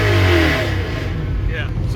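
A 640 hp Ford GT40 Superformance Ken Miles Daytona replica revs loud and close, a deep engine roar that swells then settles into a lower idle, with a voice briefly over it.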